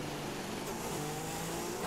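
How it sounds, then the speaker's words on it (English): A McLaren F2 race car engine in a racing video game drones at a steady, thin, buzzy pitch, fairly quiet and heard alone for a couple of seconds. "Listen to this engine."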